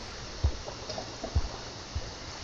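Character swimming through water in the video game Rain World: soft, quiet splashy strokes at a slow, irregular rhythm, three faint thumping pulses over a low watery hiss.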